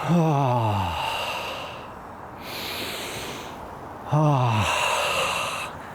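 Two long, audible exhalations during qigong practice, each a breathy sigh that starts voiced and fades into a soft airy hiss, close and alone with a short pause between.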